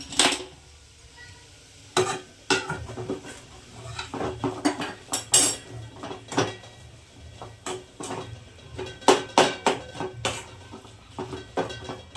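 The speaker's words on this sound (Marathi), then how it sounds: "आता चांगलं हलवून घ्यायचं सगळं वरखाली करून" Mashed eggplant bharit being stirred in a pan, a spoon clanking and scraping against the metal in an irregular series of sharp clinks close by, with no talk.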